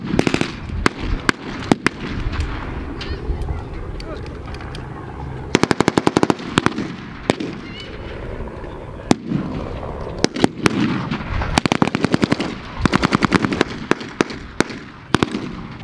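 Battle reenactment show in an arena with trenches and debris, two sides exchanging rapid blank gunfire: sharp bursts of automatic fire and scattered single shots, loud and near, over a muffled background of crowd and engines.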